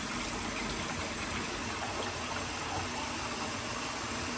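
Hot water pours steadily into a Yeti cup, a continuous close gushing and filling rush that holds even for several seconds with no talking.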